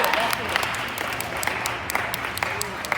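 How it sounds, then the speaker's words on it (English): An audience claps and applauds in a hall during a motivational talk, a dense, continuous wash of hand claps at even loudness with voices mixed in. "Give yourselves a hand for being here, y'all."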